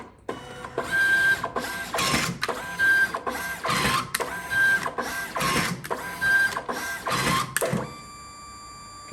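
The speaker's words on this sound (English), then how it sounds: "So you'll close your printer and it will now cut off 4 sheets of paper." Citizen CY dye-sublimation printer cutting off four paper sheets after media loading, a run of repeated mechanical whirring and cutting bursts in a steady rhythm, close and fairly loud, ending in a quieter hum.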